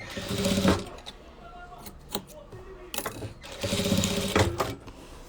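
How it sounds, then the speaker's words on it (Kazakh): A sewing machine used for patchwork quilting runs in two bursts of steady rapid stitching, close and fairly loud, separated by a quieter pause with a few clicks. "бұл машинка өте ходовой машинка"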